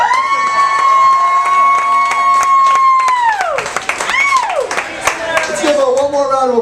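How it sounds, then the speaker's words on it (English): A comedy club crowd in San Antonio bursts into loud applause, with long whoops and shouted cheers riding over dense clapping, and the cheering rises and falls in waves. "give a big round of applause to Lennon"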